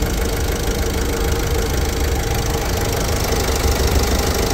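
A 2017 Ford EcoSport Trend+ diesel engine idles at a steady, even rumble, close by and unchanging throughout, with a faint mechanical knock beneath the continuous drone and no talking.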